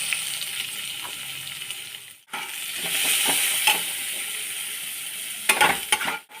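Onions frying in oil in a pan while preparing the filling for pointed gourd and prawn dolma, a steady close sizzle with occasional stirring scrapes and a brief pause partway through.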